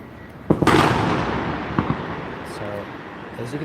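Explosions go off outside the FBI Headquarters building in Washington DC: a sharp booming burst followed by a few scattered pops and cracks, with a lingering rumble and background noise from outdoors.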